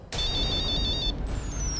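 A telephone ringing unanswered indoors in a TV drama scene: a short, bright, warbling electronic ring tone followed by a fading tonal tail, heard alone with no talk.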